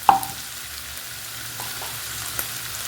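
Soya chunks frying in a pan, a steady soft sizzle throughout with a sharper crackle at the start and a few faint pops, no voices.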